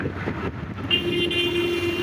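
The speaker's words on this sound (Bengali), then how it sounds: "খুব দ্রুত গতিতে থেকে গাড়ি যাইতেছে" Vehicles pass fast on a main road in a continuous close rumble with engine whine, a tonal horn-like note and wind rush, with no talking.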